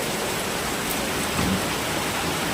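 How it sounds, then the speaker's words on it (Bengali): Heavy rain pours steadily, a dense, continuous hiss of downpour with no pauses and no voices. "দেখো খুব জোরে বৃষ্টি পড়ছে।"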